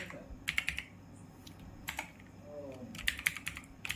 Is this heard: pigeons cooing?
no